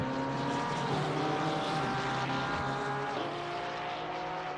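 A GT3 race car's straight-six engine in the Assetto Corsa Competizione racing game drones steadily at a continuous, fairly even pitch, with no talk over it.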